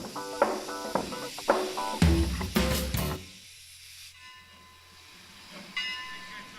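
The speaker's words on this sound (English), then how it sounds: "the freight engine puffed off indignantly to the roundhouse" A storybook steam freight engine puffs away: a few loud chuffs and a burst of hissing steam in the first half, then the sound fades to a quiet, ringing tail with a faint whistle-like tone.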